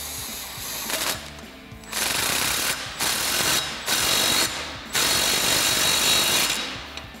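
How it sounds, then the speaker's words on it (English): An impact wrench with a 15 mm socket snugs the bolts on a Dynomax Super Turbo axle-back exhaust on a Jeep Wrangler JK, firing in five loud, close rattling bursts of about a second each with short pauses between them. "we're using our 15 millimeter socket on our impact again"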